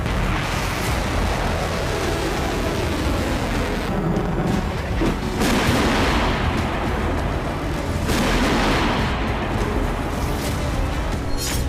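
Kinzhal missile explosions over Kyiv while air defenses are active: a continuous heavy, loud rumble with several deep booming blasts swelling through it, and no voices.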